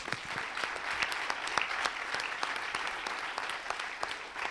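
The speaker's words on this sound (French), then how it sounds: "On les applaudit, s'il vous plaît." An audience applauds at an awards ceremony for best dissertations, steady crisp clapping from a hall crowd with distinct individual claps standing out, continuous and fairly loud.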